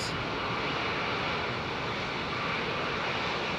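Deep broadband roar of an aircraft with GE9X engines at Heathrow Airport, steady and loud throughout, blended with wind.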